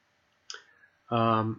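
A single computer mouse click sounds sharp and close during on-screen navigation, followed shortly by a voice beginning to speak.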